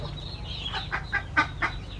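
Muscovy ducks kept on a small farm give a few short, breathy calls in a quick irregular run, close and moderately loud over low background hum, with no talk.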